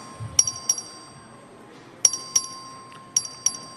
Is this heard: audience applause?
no